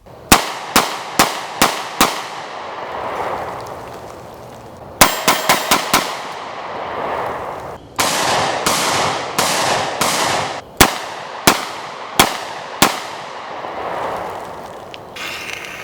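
Rock Island Armory 22 TCM 1911 pistol fired at night, a series of sharp, loud shots, first singly, then a quick cluster of rapid rounds, then more steady shots spaced about a second apart, with no talking.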